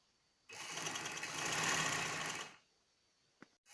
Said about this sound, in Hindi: अब हम स्कर्ट के नीचे वाले हिस्से को, जो नीचे वाली फ्रिल है, उसको अंदर वाली साइड पे सिलाई लगा के उसकी फिटिंग की सिलाई लगा देंगे।